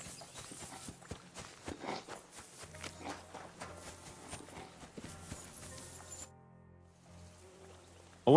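Horse hooves clip-clop at a steady walking rhythm in the medieval video game Kingdom Come: Deliverance II, moderately close, before the steps stop and it falls quiet.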